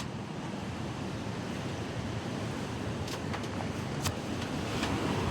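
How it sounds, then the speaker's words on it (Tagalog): Strong typhoon wind and waves beside a small hut, a steady close roar of gusts and surf with a few sharper splashing bursts near the end, with no talking. "Grabe kalakas ng ano, hangin."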